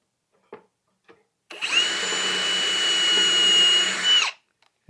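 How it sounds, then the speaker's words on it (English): A power drill with a 3/32 drill bit whirs loudly and steadily for about three seconds in wood, preceded by a couple of light taps and ending abruptly. "I'm going to expand that with the 3/32 drill bit."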